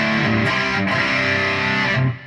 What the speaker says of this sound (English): A lot of distortion there